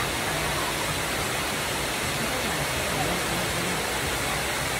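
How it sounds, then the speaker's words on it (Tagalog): Tinago Falls waterfall roars as a steady, dense rush of falling water, loud and unbroken throughout with no distinct pauses. "Ayan yung falls guys. The Majestic Tinago Falls."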